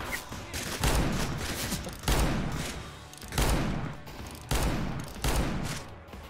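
Gunfire in a CS:GO co-op story mission set in a Wild West map, five or six loud bursts of shots and booms every second or so, each followed by a decaying tail.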